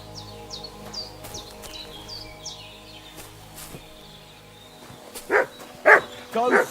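A dog in the video game Kingdom Come: Deliverance 2, a few loud close barks near the end after a stretch of chirping birds and quiet ambience.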